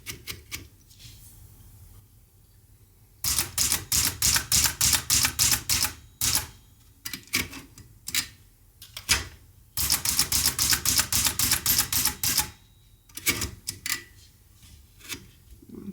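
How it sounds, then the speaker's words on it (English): Bursts of rapid mechanical keystrokes from an Empire Aristocrat typewriter, close and crisp, with short pauses and a few isolated clacks between runs of typing. "Let's do a typing test."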